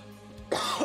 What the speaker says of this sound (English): Got a light cough tonight.